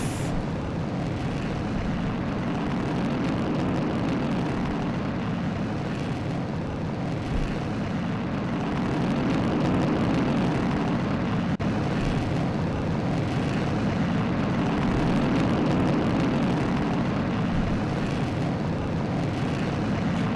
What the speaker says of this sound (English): Throttle set to full. Ignition. And lift off.